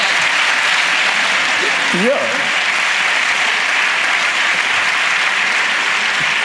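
An audience at a live comedy podcast recording breaks into sustained, loud applause, dense clapping that fills the room, while a man briefly calls out over it.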